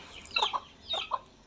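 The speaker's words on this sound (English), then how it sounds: "Have you ever seen a lame chicken, a lame hen, a disabled one?" A lame, disabled hen in an African village gives two short bursts of clucking, close and fairly quiet, with a brief pause between them and no talking.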